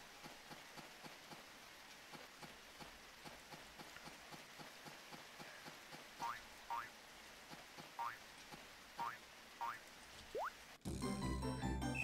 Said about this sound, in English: Oh crap, I left my chicken out in the rain!